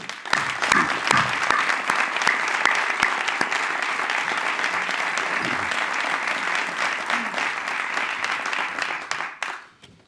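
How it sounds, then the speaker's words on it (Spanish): Sustained applause from a large crowd, dense and loud for several seconds before fading out at the end. "El primer aplauso."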